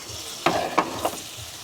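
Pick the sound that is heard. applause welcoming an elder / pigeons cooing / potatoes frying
potatoes frying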